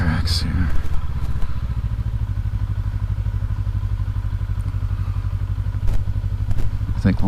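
A 2019 Honda CB500X motorcycle riding slowly through a snowy parking lot, its engine thrumming steadily and close, with occasional thumps and clatter over the rough ground.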